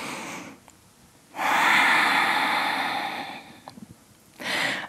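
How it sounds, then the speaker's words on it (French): A deep breath during a vinyasa yoga session in the chair pose: a long, loud, airy exhale lasting about two seconds, followed by a brief quiet gap and the start of another breath. "Grande respiration ici."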